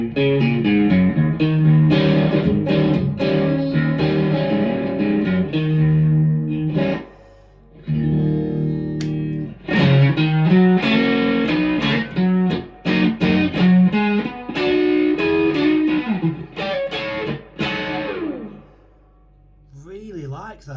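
An electric guitar plays through a Tube Screamer clone overdrive pedal, effect at halfway and set to its darker fat mode. Bursts of chords and riffs with mild distortion are separated by brief pauses, and the playing trails off near the end.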